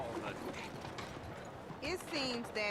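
Horse hooves clip-clopping in Red Dead Redemption 2 in a town street, a soft steady patter under speech, with brief whistled and chirping game sounds near the end.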